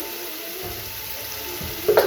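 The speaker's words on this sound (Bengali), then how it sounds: "এখন আলু পেঁয়াজটা ভাজছি।" Potatoes and onions fry in a pan with a steady, close sizzle, and a short clatter of stirring comes near the end.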